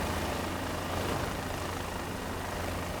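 A helicopter in Microsoft Flight Simulator 2024, just landed at an airport, gives a steady, dense rotor and engine roar that holds at an even level throughout.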